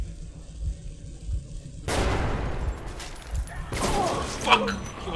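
Grenade blasts and bursts of gunfire in the game Metro 2033 Redux, a low rumble that breaks into a loud broadband explosion midway, then a second blast and sharp crackling shots, with the player's voice over the top.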